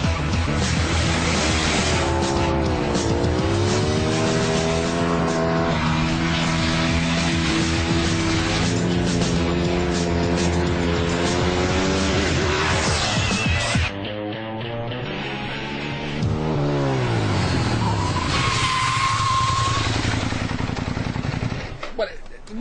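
A Ducati 1098 motorcycle races a Lamborghini Gallardo, its engine revving hard and climbing through gears, loud and close, with a brief drop before another surge and a fading pass near the end.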